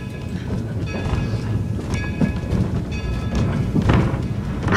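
Steam excursion train rolling along rails on the New Freedom line, a steady rumbling clatter of the cars with faint clicking joints, continuous and fairly close, no voices.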